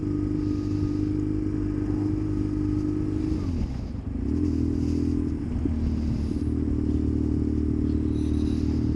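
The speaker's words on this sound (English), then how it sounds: "Obligatory to blip the throttle there, I say." A custom BMW R1150GS scrambler motorcycle cruising under a bridge, its steady engine drone dipping then rising as the throttle is blipped once, the revs swelling briefly before settling back to a smooth loud hum.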